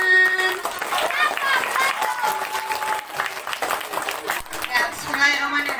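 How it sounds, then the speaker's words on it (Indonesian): Audience applause at a school language performance, with a crowd clapping steadily for several seconds, mixed with tonal sounds and voices. "Tepuk tangan."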